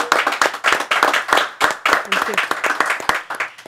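An audience applauds and claps to welcome a singer onto a talk show, with bursts of sharp hand claps rising and falling amid cheering and voices throughout.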